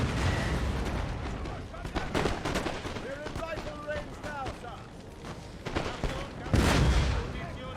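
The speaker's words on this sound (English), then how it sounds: "Artillery reporting! Artillery! Okay, fire away boys," Artillery fire in the Napoleon: Total War battle game, with a run of sharp booming shots and crackling volleys, the heaviest blast near the end, under a voice shouting commands.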